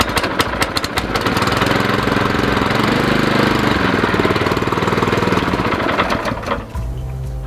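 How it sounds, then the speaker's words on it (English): A Classen CA-18H lawn aerator's small engine starts with a few sputtering pulls, then runs as a loud, close, rapidly knocking idle that stays steady before easing off near the end. "you pull it and it's going to start right up"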